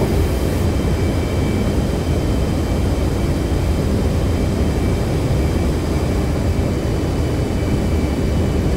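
An F-15C jet engine in the DCS flight simulator roars during a landing approach, a dense, loud, steady broadband rumble with a faint high whine, continuous throughout and without talk.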